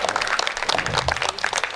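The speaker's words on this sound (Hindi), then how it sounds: "एक बार इनके लिए बहुत अच्छी तालियां बजा दीजिए" Crowd at a Hindi poetry gathering (kavi sammelan) breaks into brisk, dense applause, loud and continuous throughout.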